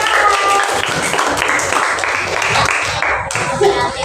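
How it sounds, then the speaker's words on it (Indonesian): Workshop participants clap for the third group, a brief burst of hand claps from a roomful of people, mixed with murmuring voices in the background. "Tepuk tangan untuk kelompok ketiga"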